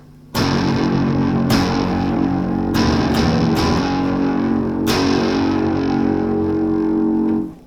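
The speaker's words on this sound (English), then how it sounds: "That's just the sound of my guitar running into my amp. The riff goes like this." Distorted electric guitar riff played through an amplifier, chords struck repeatedly with sharp attacks and sustained ringing, loud and continuous for several seconds with no voices.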